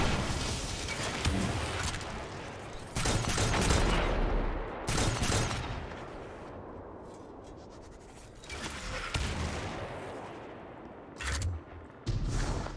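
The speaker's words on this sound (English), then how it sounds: "so what I'm going to do is shoot it to make it move." Repeated gunfire bursts in the video game Destiny 2 while shooting at a Centurion enemy, several loud broadband shots and short volleys separated by quieter stretches, with no talk.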